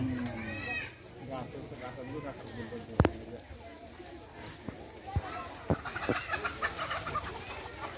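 Chickens cluck and call nearby on a poultry farm in irregular bursts while people talk over them, with a few sharp knocks in between.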